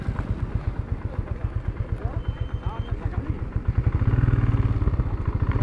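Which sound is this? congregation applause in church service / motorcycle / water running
motorcycle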